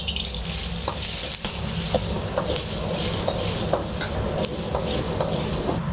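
Onions frying in oil in a wok over medium heat while being stirred, giving a steady close sizzle with scraping stir strokes recurring throughout, no talking.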